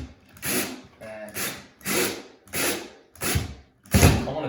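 A power drill drives drywall screws through a stress-cracked drywall seam into a stud, sounding in five or six separate loud bursts of whirring with short pauses between them.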